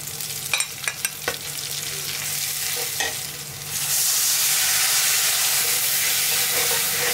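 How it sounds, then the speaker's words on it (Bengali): Salt, turmeric, chili powder, coriander and cumin fried in oil and stirred with a few sharp spatula clicks at first, then a loud, steady sizzle close up. "মশলাটা ভালো করে কষাই নেব।"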